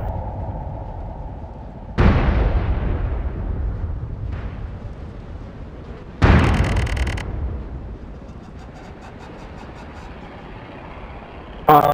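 A clicker bomb explodes in a video game, two heavy booming blasts several seconds apart, each with a long rumbling decay, loud and close with no talk.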